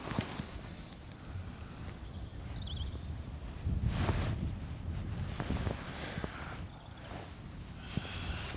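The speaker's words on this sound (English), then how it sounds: "It's far too windy. You could probably hear on the mic." Wind buffets the microphone in uneven rumbling gusts beside a small river, swelling loudly in the middle, with no voices.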